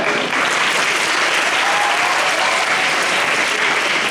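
An audience at an inter-school math competition applauds a placed team, a loud continuous burst of clapping, dense and even throughout.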